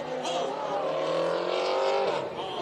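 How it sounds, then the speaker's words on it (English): Pro late model race cars at Tri-City Raceway roar loudly and steadily, with engine pitch rising and falling as the pack speeds around the track during a restart, with a hint of tire squeal. "Restart with 16 laps to go, and it's Cristiani who spins the tires"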